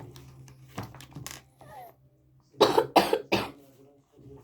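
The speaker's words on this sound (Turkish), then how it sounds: "Neden öksürdüğümü bilmiyorum." Several sharp coughs close to the microphone, a few scattered ones first, then a loud burst of three or four in quick succession, with light clatter around them.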